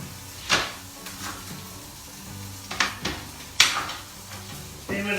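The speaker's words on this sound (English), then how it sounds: "we've got the chilli is sizzling away." Chilli fries in a pan with a soft, steady sizzle, broken by several sharp clanks of utensils against the pan.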